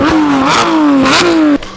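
Supercar engines accelerating on a road trip roar loud and close, rising in pitch through repeated gear changes with brief dips between shifts, then cutting off abruptly near the end.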